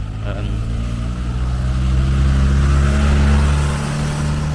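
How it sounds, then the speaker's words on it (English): Steady roar of street traffic in Bridgetown, Barbados, with car engines droning and heavy lorries rumbling past nearby, continuous and fairly loud. "the cars and the lorries here, they make a louder noise than in England at least"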